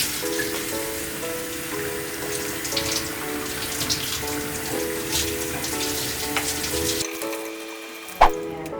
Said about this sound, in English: turn off the heat and drain them out of the water